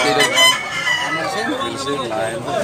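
A gamefowl rooster crows at a fowl market in Tabunok, Cebu, its call rising clearly over a busy crowd of people talking nearby.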